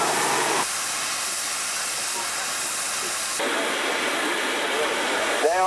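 Loud, continuous hiss of steam venting from a steam traction engine, broad and rushing, changing in intensity partway through, with a faint squeal near the end.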